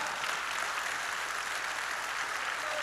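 A church congregation applauds as a dense, even wash of clapping, distant and fairly faint, steady throughout without any voices.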